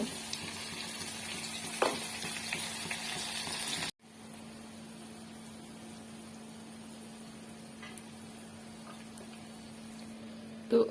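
Green spice paste with coriander frying as a tempering in a pan for green pulao rice, a steady soft sizzle that drops briefly mid-way and resumes, with a low hum and a few clinks.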